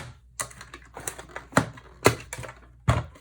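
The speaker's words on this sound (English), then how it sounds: "pull out our cut and emboss machine" Clicking and clattering from a cut and emboss machine being set out for papercrafting, a handful of sharp close knocks spread over a few seconds, loud and without talk.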